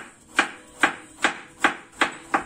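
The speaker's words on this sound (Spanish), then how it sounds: "La zanahoria a rodajas." Knife chopping carrot into slices on a cutting board, six evenly spaced sharp knocks in a steady rhythm, close and clear with no talk.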